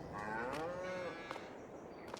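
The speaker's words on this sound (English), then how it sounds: "mooing cows" Cattle in a farming video game's Hay and Forage expansion give a long, drawn-out moo, fairly close and alone, followed by quieter livestock shuffling.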